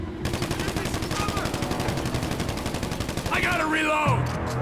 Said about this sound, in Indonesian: Siapa sih nembak?